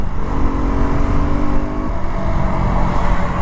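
A KTM RC 125 sports motorcycle engine revs near redline, a loud sustained buzzing drone with the pitch climbing then holding, heard up close while riding.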